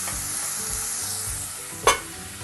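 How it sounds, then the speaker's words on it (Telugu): Soaked basmati rice frying in a pan gives off a constant, close sizzle with soft rhythmic stirring thumps and one sharp scrape of the utensil against the pan. "ఒక 2 నిమిషాలు వేయించుకుందాము."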